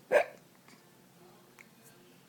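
One loud, abrupt hiccup bursts out up close, followed by faint quiet sounds and a small breathy catch.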